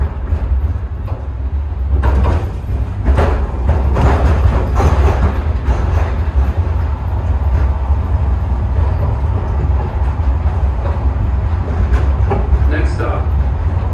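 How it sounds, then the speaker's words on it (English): The MSP airport Terminal 1 post-security tram pulls away from the station with a steady rolling rumble, rattling clatter and a few clicks, close and continuous throughout. "The tram is departing the station"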